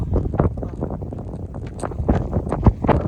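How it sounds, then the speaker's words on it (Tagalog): Strong wind at Santorini harbour buffeting the microphone, continuous rumbling gusts with irregular loud thumps close up and no speech. "Lakas ang hangin."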